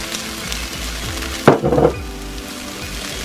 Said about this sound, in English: So just put a little bit of oil and that's our egg.